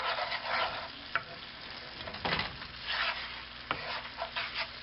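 Butter and flour roux being stirred in a pan for creamed beef, a soft continuous scraping sizzle with a few sharper clinks of the utensil against the pan.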